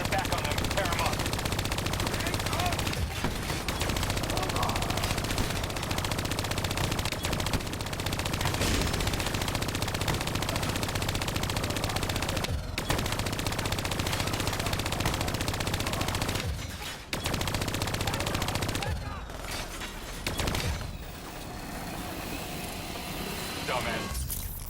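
Sustained rapid automatic gunfire rattles almost continuously while bats are shot down in a Call of Duty Black Ops III mission, with brief gaps and a voice speaking over the shooting.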